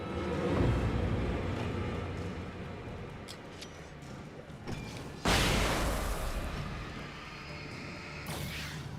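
A flashbang grenade goes off in Alan Wake on PS5: a sudden, loud, broad burst cuts in midway through a low, creaking ambient rumble, and a second sharp blast follows near the end.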